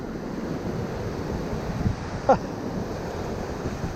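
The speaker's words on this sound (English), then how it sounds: "the big waves are coming up now." Steady wash of ocean surf breaking on a beach in cyclonic conditions, with wind buffeting the microphone, plus a brief knock or splash partway through.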